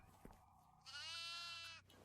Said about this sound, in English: There's a goat right here.